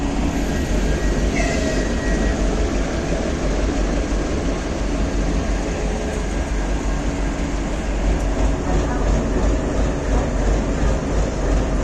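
Steady loud rumble of a train at Savyolovsky railway station in Moscow, a continuous mix of rail noise and rolling wheels with faint higher squeals, no voices.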